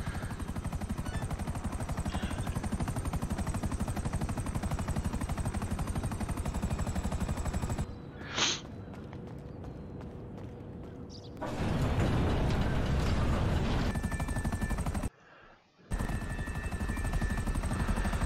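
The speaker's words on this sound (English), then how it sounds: "another mission with a different helicopter" A helicopter in the video game GTA Online, its steady rotor drone loud and continuous, briefly dropping away partway through, then returning, with a short cut to near silence before the engine noise resumes.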